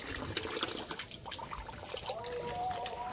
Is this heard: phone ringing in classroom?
no